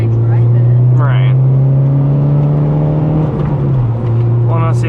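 A 9th generation Honda Civic Si engine and exhaust drone steadily while driving, a loud, close, constant low hum that shifts slightly in pitch, with a voice speaking over it at times.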